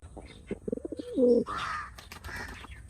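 Domestic pigeons coo in a short burst of soft, throaty pulses followed by a longer rolling coo, close by, with a few other faint bird calls and rustles around them.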